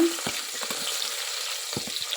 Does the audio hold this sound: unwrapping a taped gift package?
no